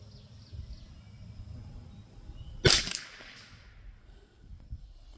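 A single sharp shot from a CZ 512 .22lr rifle fired at targets 50 yards away, a crisp crack with a short fading tail midway through otherwise quiet outdoor background.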